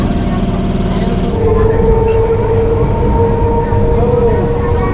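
A local train at Bansberia railway station platform gives a steady, loud rumble with drawn-out metallic tones, rising slightly after the first second, with a busy station backdrop.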